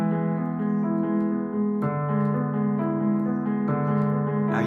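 Sustained piano chord played three times in steady succession, the right hand holding the same upper notes while the left-hand bass note drops to D, each strike ringing full and close with no voice.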